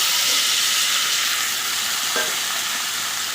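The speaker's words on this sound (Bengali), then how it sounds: "ফোড়নে দিচ্ছি এই যে কালো জিরে একটু নেড়ে দিও" Black cumin seeds and taro stolons frying in hot oil, a steady close hiss and sizzle with a light stirring scrape midway, no voices.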